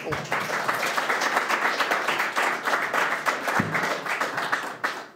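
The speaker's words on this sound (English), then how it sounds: "Now we can say a big round of applause for our candidates" A Democratic town committee forum audience gives the candidates a continuous round of applause, many hands clapping densely and evenly at moderate volume, tapering slightly near the end.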